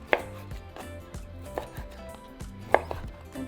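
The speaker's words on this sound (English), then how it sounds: "Alright, so the sausages, just cut them." A knife slices sausages on a cutting board, giving a few distinct sharp chops spread unevenly over a quiet kitchen background, with no speech.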